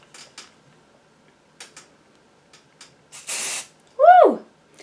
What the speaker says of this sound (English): That is a cold, forceful spray.